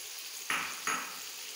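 Chopped tomatoes drop into a pan of frying okra masala, setting off two quick, separate bursts of sizzling over a quiet background hiss.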